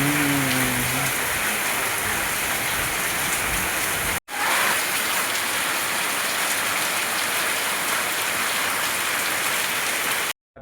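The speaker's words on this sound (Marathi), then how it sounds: "हा पावसाळ्यातला म्हणजे पहिला पाऊस आहे जे की सकाळपासून पाणी पडत आहे" The first monsoon rain of the season, falling since morning, pours down in a dense, steady hiss of drops on surfaces, continuous and loud apart from one brief cutout.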